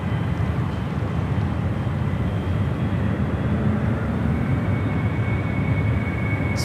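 A Star Alliance Boeing 777 jet at San Francisco International Airport, a steady loud low engine roar that holds evenly for several seconds with no pauses.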